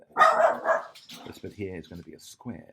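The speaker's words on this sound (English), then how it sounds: "sorry about the dogs" Dogs bark and yip at the start, then keep barking intermittently in the background while someone talks over them.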